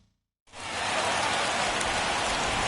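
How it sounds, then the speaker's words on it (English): Rain falling in the baseball video game MLB The Show 21 begins abruptly after a moment of silence and settles into a steady, dense hiss of heavy rainfall, loud and continuous. "the rain starting to intensify here. It's coming down a little heavier now."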